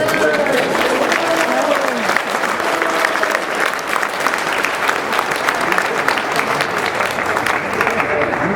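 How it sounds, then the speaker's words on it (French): A crowd applauds loudly at the inauguration of a covered court at a tennis club, dense sustained clapping close and full for the whole stretch, with some voices mixed underneath. "Vous applaudissez"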